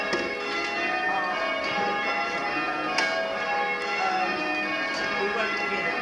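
Church bells of Croydon Minster ring in a dense, continuous overlapping peal, the strikes blending together at moderate loudness with faint talk underneath.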